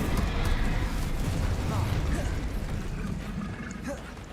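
In Hogwarts Legacy, an Incendio fire spell is cast in combat, a loud whooshing burst of flame that roars steadily and slowly fades amid other spell effects, with a voice speaking over it.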